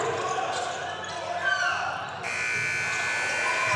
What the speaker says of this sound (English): And at the buzzer, Farias will take a shot